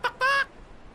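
A man imitates a chicken with two short nasal squawks, a brief clipped one followed by a longer drawn-out cluck, close and loud against a quiet room.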